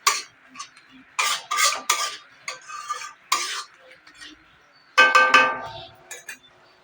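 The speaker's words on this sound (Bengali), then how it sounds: "জলটা দিয়ে আরেকটু ভালো করে কষিয়ে নেব।" Spoon stirring and scraping spice paste with a little water in a pan for a fish curry (shankar fish), a series of separate scraping strokes with metallic clinks, close and moderately loud, with no talking.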